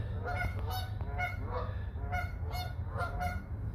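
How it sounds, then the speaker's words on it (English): A flock of geese honks repeatedly around an abandoned crab shack patio in Columbus, Ohio, overlapping nasal calls in uneven bursts over a steady low background hum, close and fairly loud with no talk. "And all the geese."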